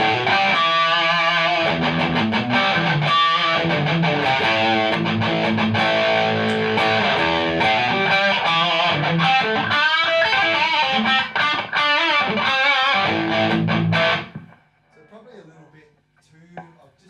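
An electric guitar played through a stacked Boss SD1 and Tube Screamer distortion pedals rings out in loud, saturated chords and riffs for about fourteen seconds, then cuts off, leaving faint residual noise.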